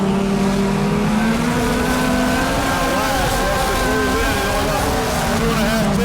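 Race cars roar around the Brownstown bullring oval in a steady, loud engine drone with shifting pitch as they run close together, and an announcer talks over it.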